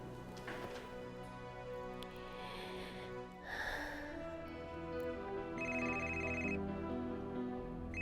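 Telephone ringing in a drama scene, a faint electronic ringtone with repeated tonal bursts, heard behind soft background music and quiet sounds, no talking.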